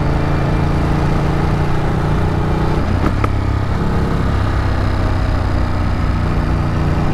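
A Ducati motorcycle coasts in fourth gear along a country road, a steady low engine drone buried under loud, constant wind rush, with no voices.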